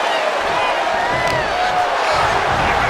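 A wrestling video game arena crowd roars steadily throughout, a dense wash of cheering and noise with a commentator talking over it.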